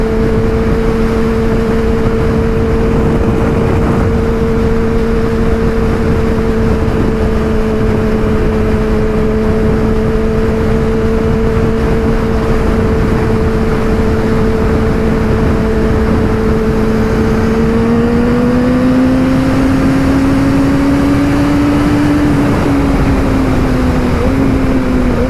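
A Subaru engine hums steadily at close range, a loud, constant droning tone that climbs slightly in pitch partway through as the revs rise, then eases back, with no talking.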